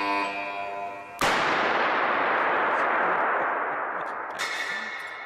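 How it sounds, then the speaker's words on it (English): A 2 million volt impulse generator fires an artificial lightning spark: one sudden loud crack that rings out into a long, fading roar lasting several seconds, with no talk over it. "they're going to let me use their 2 million volt impulse generator to make lightning at the touch of a button"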